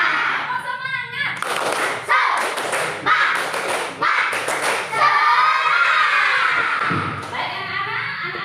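Children and a teacher in a classroom perform the tepuk semangat clapping chant, with loud rhythmic bursts of hand claps alternating with sung and spoken chant phrases in a lively call-and-response pattern.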